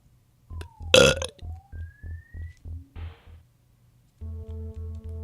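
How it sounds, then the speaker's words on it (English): Cartoonish video game burp sound effect from EarthBound, one loud belch over a steady pulsing electronic beat, followed by sliding tones and chiptune notes. "Burp."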